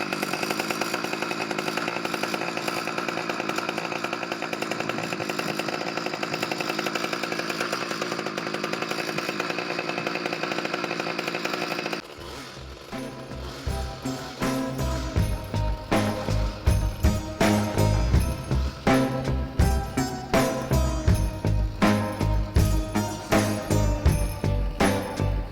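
Bolens BL250 two-stroke weed trimmer engine running after a carburetor replacement, first a steady loud high idle whine, then a brief drop followed by rhythmic repeated revving bursts, close and loud.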